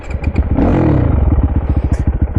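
Supermoto motorcycle engine loud and close as the clutch is let out, a steady rapid throbbing pulse that holds through the whole stretch with a brief rough clatter near the start.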